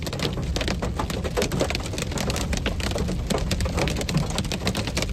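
Small hail from a Colorado storm pelts surfaces in a dense, continuous clatter of sharp ticks, loud and close, with a low rumbling wash underneath and no voices.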